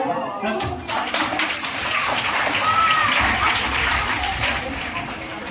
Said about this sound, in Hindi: जो अपने लिए ताली बजाओ।